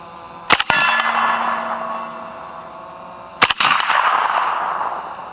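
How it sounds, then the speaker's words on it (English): Two suppressed AK rifle shots at a 50-yard target, each a sharp crack followed by a ringing metallic clang as the round glances off the steel, spaced about three seconds apart with quiet outdoor air between. "Looks like that one glanced off the target."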